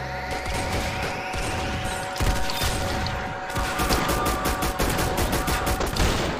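Rapid bursts of gunfire in an Arsenal game, clustered shots cracking over a dense, busy game soundscape with mechanical clatter, loudest toward the middle and end.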